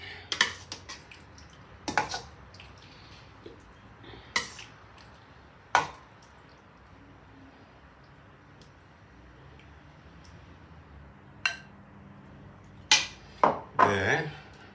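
Classic Italian vegetarian minestra soup is plated up, with sharp, scattered clinks and clatters of dishes and cutlery against a quiet kitchen background, spaced irregularly and bunching together near the end.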